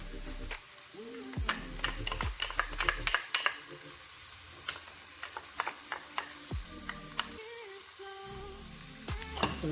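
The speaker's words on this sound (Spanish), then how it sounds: "vamos a sofreír aquí nuestros vegetales para que vayan botando esos juguitos" Vegetables and tomato paste sautéing in a pan, a steady soft sizzle with intermittent clicks and scrapes of stirring. The sound is quiet and close, and a few brief low tones come and go.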